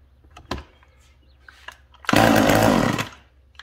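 A McCulloch chainsaw engine sputters briefly after a couple of faint knocks, then catches and runs loudly for about a second before cutting out.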